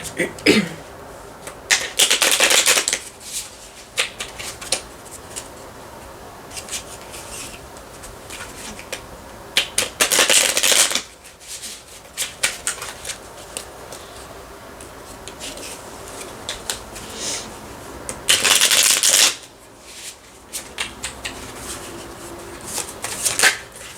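Oracle cards are shuffled in several bursts of close, crisp riffling and flapping, with softer handling and tapping of the deck between the bursts and no talking.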